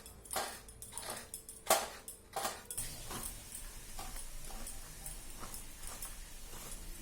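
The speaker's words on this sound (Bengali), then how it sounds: "এবার নারকেলটা কুড়িয়ে নিচ্ছি" Coconut being grated by hand for dudh puli pitha, a Bengali sweet: scraping and light clattering bursts come close up in the first few seconds, then give way to a steadier, softer scraping texture with no one talking.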